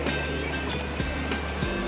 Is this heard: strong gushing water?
yes